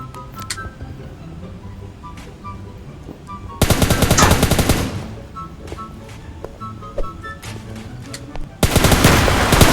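Automatic weapon fire in the video game PUBG, two loud sustained bursts of rapid shots with scattered single cracks and game effects between them, while someone talks.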